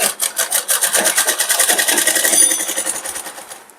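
A sewing machine stitching a pant runs in a close, fast, even rhythm of needle strokes that holds steady and then slows near the end. There is no talk over it.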